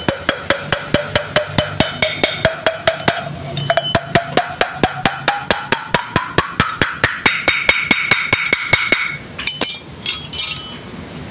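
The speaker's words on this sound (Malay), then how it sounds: "So ketuk sekali lagi." A hammer taps a rubber seal onto a brake piston of a Proton Saga BLM, with dozens of sharp, evenly spaced metallic knocks at a fast steady rhythm, loud and close, with a ringing tone under the strikes.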